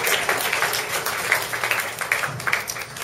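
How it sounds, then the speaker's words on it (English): Audience at a live improv comedy show breaking into applause: a brief burst of dense, close clapping that wavers in strength for a few seconds. "So come on, clap for that, guys, huh?"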